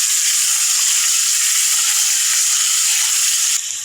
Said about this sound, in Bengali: এখন মাংসটা দিয়ে দিলাম, মেরিনেট করা মাংস দিয়ে দিলাম।